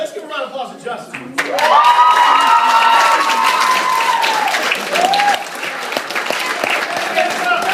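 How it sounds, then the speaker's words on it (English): A crowd claps steadily while children cheer and shout over it, the sound filling the space for several seconds before fading into scattered voices. "let's give a round of applause to Justin"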